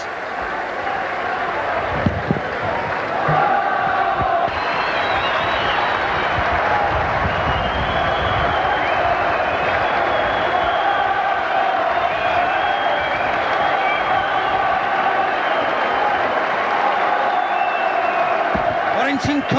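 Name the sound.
rugby league crowd cheering, Warrington fans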